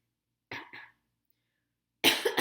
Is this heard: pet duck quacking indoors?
no